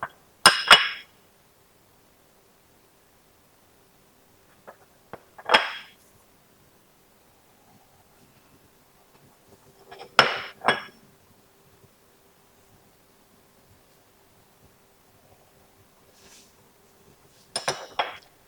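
A few sharp clinks of plates being set down while arranging sliced vegetables around the rim, in separate bursts with quiet gaps between, close by and no talking.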